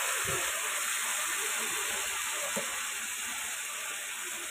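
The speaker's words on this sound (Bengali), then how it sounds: "এখনই আমি মাংসটাকে এখানে ঢেলে দিব" Meat for chui gosht sizzles steadily in hot oil, a dense, even hiss that holds at the same level throughout, with a few faint low knocks underneath.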